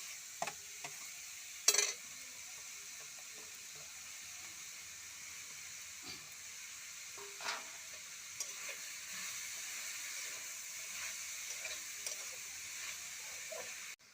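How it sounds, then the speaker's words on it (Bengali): Grated carrots stirred in a pan for carrot halwa, a faint steady hiss with occasional light spoon taps and scrapes, quiet and close. "গাজরটা দিয়ে দিচ্ছি, একটু নেড়ে চেড়ে দুধ ঢেলে দেবো।"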